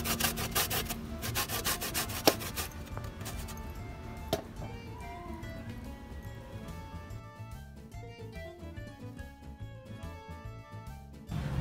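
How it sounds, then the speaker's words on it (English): A lemon is zested into a ricotta mix, a steady close rasping scrape repeating quickly over a grater for several seconds before easing toward the end. "I'm going to zest some of this lemon into my ricotta mix"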